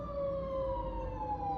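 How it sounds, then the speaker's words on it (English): Sirens on two big fire trucks drive past, a steady wailing tone that slowly drops in pitch as they go by at a moderate distance over low road rumble. "Actually, there's 2 big fire trucks just passed."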